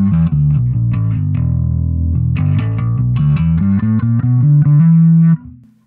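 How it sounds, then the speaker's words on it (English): A bass guitar played through its neck pickup with full tone: a run of loud, round, sustained low notes, close and alone, ringing out briefly after the last note. "Here's what the neck pickup sounds like"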